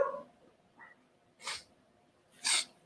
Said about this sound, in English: Finally sneezed.